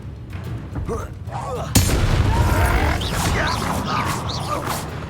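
In Hogwarts Legacy, a Confringo fire-blast spell bursts with one sudden, sharp explosion that then rumbles on beneath crackling effects, with voices talking before and after the blast.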